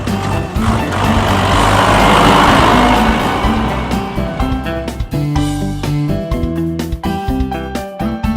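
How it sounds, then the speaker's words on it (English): A tractor engine runs with a loud low rumble that swells near the start, then continues with uneven, rhythmic mechanical chugging and knocks. "Tractor."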